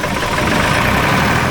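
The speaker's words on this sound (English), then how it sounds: "With the smooth start of this engine, you can see that the engine is perfectly primed with diesel" A diesel engine, primed with an electric motor, runs with a steady, loud, even drone and low rumble throughout, with no voices.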